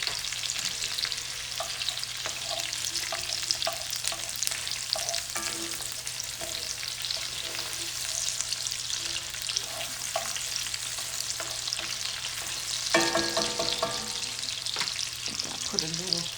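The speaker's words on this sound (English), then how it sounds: "I'm gonna just saute that." Cabbage sautés in a pan with a steady, moderate sizzle, broken by occasional scrapes and taps of a utensil stirring it, close with a faint background hum.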